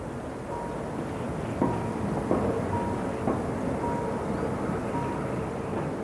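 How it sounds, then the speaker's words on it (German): A narrow-gauge train from Chur labours up a steep mountain line toward Arosa, its steady rumble and wheel noise continuous and fairly close, with a few sharper clanks and squeals rising above the drone. "Der Zug aus Chur kämpft sich die steile Strecke hinauf."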